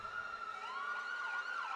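A police car siren wails steadily at a hockey game as the car leads the way out, its pitch sweeping up and down, fairly prominent and continuous over faint background noise.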